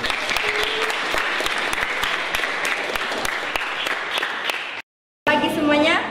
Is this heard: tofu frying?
no